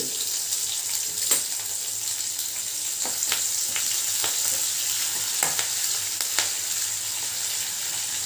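Onion and curry leaves frying in oil for a kuzhambu, a steady close hiss of frying with a few sharp crackles and pops scattered throughout, no talking.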